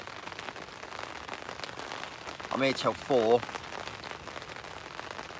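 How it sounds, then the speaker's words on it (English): Rain patters steadily outdoors at a fishing spot, a constant hiss throughout, with someone speaking briefly partway through. "The rain's meant to be carrying on till 5 though"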